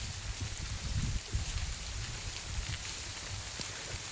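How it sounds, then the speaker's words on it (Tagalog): Heavy rain in a hidden forest, a steady dense hiss of rain with low rumbling thumps underneath, continuous and fairly close, with no voices. "Lakas ng ulan."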